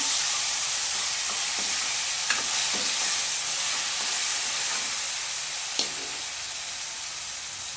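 Cumin seeds browning in hot oil sizzle as mango pieces go in for a mango chutney, a steady loud hiss with a few soft clinks of stirring, no talk.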